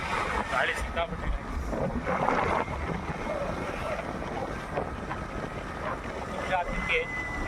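Strong wind buffets the microphone on a boat crossing the sea on a trip near Murdeshwara, a steady roar with rushing water and faint voices underneath throughout.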